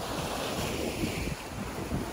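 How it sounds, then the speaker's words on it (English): Steady ocean surf rolls in as the tide rises, a continuous broad wash of breaking waves mixed with wind buffeting the microphone, with no voices. "The tide's coming in."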